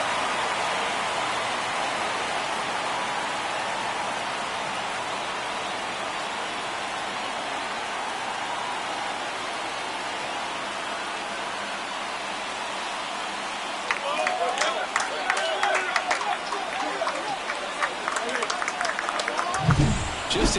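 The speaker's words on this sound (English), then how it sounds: "He just sparked this home crowd in a big way." A home ballpark crowd roaring after a home run in MLB The Show 24, a steady wash of cheering under broadcast commentary that swells with clapping and louder shouts toward the end.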